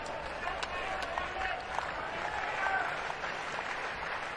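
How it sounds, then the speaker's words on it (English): Baseball fans at an NCAA tournament game between TCU and Arkansas clap in a rhythmic staccato, crowd noise swelling around them in a large outdoor stadium while a commentator's voice runs underneath. "Fans start their staccato applause again, hoping for another punch out."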